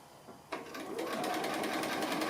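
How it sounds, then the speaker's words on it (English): A sewing machine doing free motion stitching on a small applique starts up and runs at a steady fast whir, close and continuous after a brief quiet moment. "You don't have to do free motion stitching if you would rather do some other stitching."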